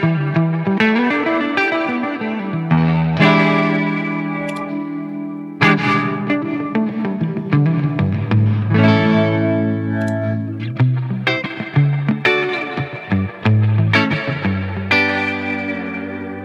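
Electric guitar played through a UAFX Golden Reverberator spring reverb pedal, rich sustained chords and melodic lines with a wet, splashy reverb tail, loud and continuous with brief pauses between phrases.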